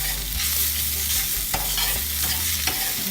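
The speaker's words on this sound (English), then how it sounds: "I'm just going to lower the heat while I'm frying the ginger garlic" Ginger and garlic fry in a pan over lowered heat with a steady soft sizzle, while a utensil scrapes and stirs in repeated strokes, close up and with no talking.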